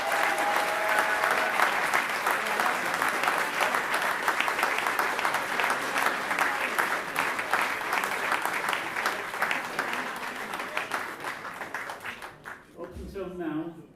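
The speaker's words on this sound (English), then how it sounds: "So give them an applause" Sustained applause from an audience at a folk music gold badge presentation concert, dense and steady for about twelve seconds before tapering off, followed by a brief murmur of voices.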